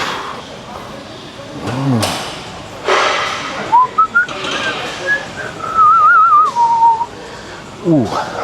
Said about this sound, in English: I don't know what the hell I was whistling